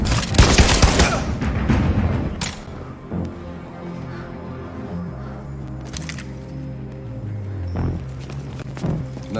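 A loud flurry of gunshots in Detroit: Become Human opens the scene, followed by quieter clatter, scattered sharp transients and a low droning game soundtrack.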